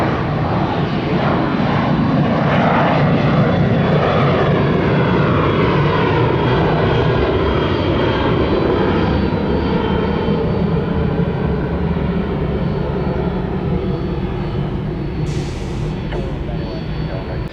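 An airliner at Tampa International Airport fills the air with a loud, sustained engine roar that slowly shifts in pitch as it passes nearby, with voices faintly present underneath.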